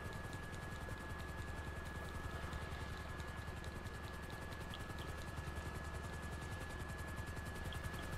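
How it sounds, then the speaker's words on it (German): Large helicopter in GTA V Online, a steady whirring rotor and engine drone holding at a constant level throughout, with faint rhythmic blade chop and no talk. "Das ist etwas größerer Heli."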